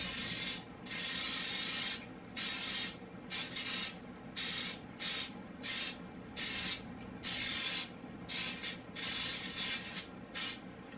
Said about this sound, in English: I have my button pan that I'm going to spray it with my Baker's Joy